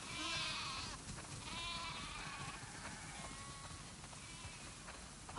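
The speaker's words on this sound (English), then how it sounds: "Wow, that's a lot of sheep." Sheep in a video game farm bleat repeatedly, several wavering calls overlapping across the clip against steady background noise, moderately loud with no talk.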